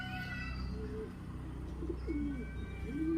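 A weak, exhausted homing pigeon coos softly after returning home, low throaty coos rising now and then over a steady background hum, faint and close.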